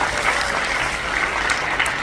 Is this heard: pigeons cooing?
no